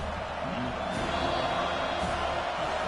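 A football stadium crowd at a Miami Hurricanes game makes a steady wash of roaring and cheering noise, heard from a distance without a break.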